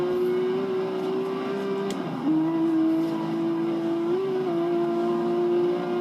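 Engine of a W Motors Lykan Hypersport in the racing game Forza Horizon 3, a steady loud drone held at high revs for the whole stretch, with a brief dip in pitch near the middle as the car shifts before pulling again.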